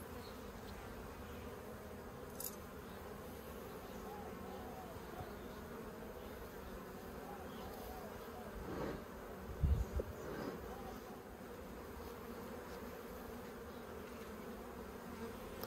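Bees in a top bar hive give a soft, steady buzzing hum close by, with a few faint knocks and thumps from handling the hive.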